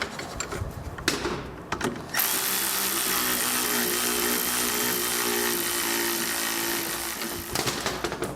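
Power tool runs steadily for about five seconds, snugging nuts down onto Jeep Cherokee XJ seat brackets, with shorter clatter and handling noises before and after the continuous whir.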